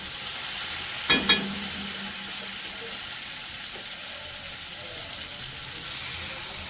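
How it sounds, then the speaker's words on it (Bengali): Water poured onto fried spice paste in a pan meets a sharp burst of sizzling, then settles into a steady hiss and bubbling while being stirred, close and fairly loud. "এবার আমি দিয়ে দেবো পরিমাণ মতো জল।"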